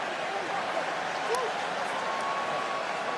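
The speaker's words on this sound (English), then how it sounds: "Almost an ironic cheer from the crowd here." Crowd noise in a rugby stadium holding about 74,000 people during South Africa versus Wales, a steady broad roar of cheering and applause, fairly loud and unbroken throughout.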